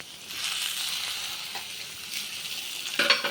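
Seedless chopped tomato skins fry in a pan for liver fry, giving a close, steady sizzle with light stirring and a brief sharper clatter near the end.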